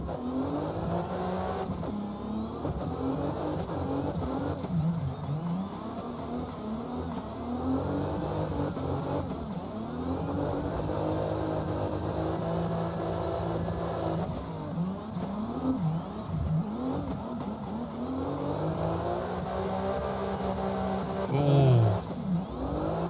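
A BMW E92 drift car in the CarX Drift video game revs and wails continuously, the engine pitch sweeping up and down through gear changes with brief tire squeal near the end, a player speaking briefly over it.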